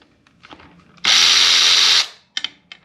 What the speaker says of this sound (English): So we're gonna loosen these screws.